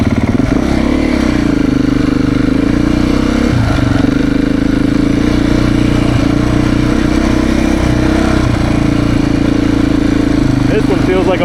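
Beta 390RR dirt bike engine runs steadily on a demo ride, a loud, close, droning four-stroke hum under wind buffeting, with a rider speaking over it.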